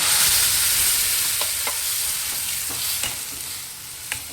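A ground onion-tomato paste hits hot tempering oil for a vegetable batani sagu, giving a steady close sizzle with scattered scraping stirs of a spoon in the pan and no talking.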